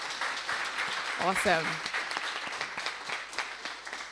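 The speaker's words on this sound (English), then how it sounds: "I just want to give the team a shout out by a round of applause" Audience applause for a team at a Sunday brunch event, steady clapping through the whole stretch with a voice calling out briefly over it.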